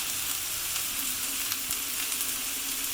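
Onions fry in a hot pan on the stove, giving a constant, even sizzle at close range with a few faint pops and no talking.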